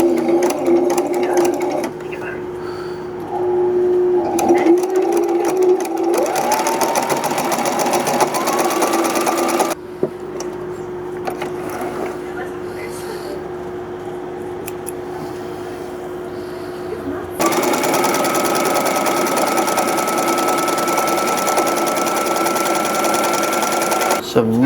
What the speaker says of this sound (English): Top stitching the straps to make them neater and like hold shape.